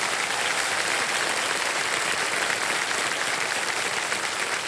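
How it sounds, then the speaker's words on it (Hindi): A studio audience on the Kaun Banega Crorepati stage applauds for comedian Krushna Abhishek. The clapping is steady and dense, filling the whole moment without pause and with no talk over it. "तालियां बज जाए कृष्णा अभिषेक जी के लिए।"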